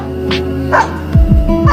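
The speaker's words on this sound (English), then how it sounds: "Looking at his master who got into the car alone, Happy started to bark and bark to say" Dog barking on a chain as its owner drives off, several close, loud barks and yelps in quick succession.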